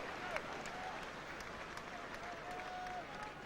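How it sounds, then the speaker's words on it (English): Rugby crowd at a Leicester versus Gloucester match cheering and applauding, a distant, steady roar of clapping and voices that holds evenly throughout. "And listen to the cheer."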